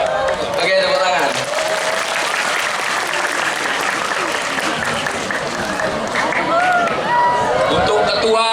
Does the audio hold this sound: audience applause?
yes